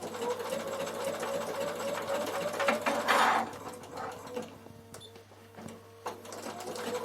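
A sewing machine triple-stitches thick thread through wool felt for a door draught stopper, running in a fast mechanical whir that speeds up, pauses and restarts in short bursts, heard alone.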